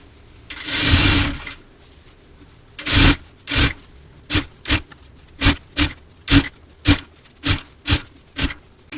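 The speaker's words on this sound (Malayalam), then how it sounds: "അപ്പം ഞാനൊരു സ്റ്റിച്ച് കൊടുത്തിട്ടുണ്ട് ഡബിൾ സ്റ്റിച്ചും കൂടെ കൊടുക്കുന്നുണ്ട്" A domestic sewing machine stitching a child's frock runs in a long whirring burst, then in a series of short, evenly spaced bursts of stitching, loud and close with no speech.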